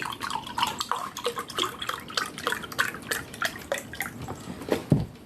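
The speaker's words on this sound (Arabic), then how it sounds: "فغادي نضيف 2 كيسان ديال الحليب" Milk being poured into cake batter, heard as close, irregular liquid splashes and drips in quick succession, fairly faint and with no speech.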